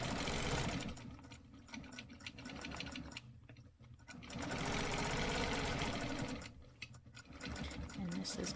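A sewing machine stitching random free-motion quilting runs in steady rapid bursts, close and whirring, pausing twice briefly before starting again, with a voice speaking quietly underneath.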